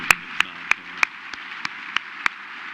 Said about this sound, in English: I'm going to give her another applause.